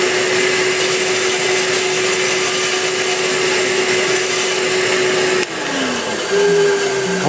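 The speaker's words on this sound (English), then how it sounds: "So I normally just crank up the saw" A power saw spinning up to cut a Corian pen blank, a loud steady whining drone with a strong motor tone that holds throughout, then drops in pitch near the end as it winds down, with no talk.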